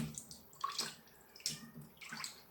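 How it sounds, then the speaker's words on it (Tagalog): Tap water runs and splashes as fish are rinsed in a kitchen sink, close by and moderately quiet, with uneven bursts of spatter and dripping. "Hugasan muna natin yung isda."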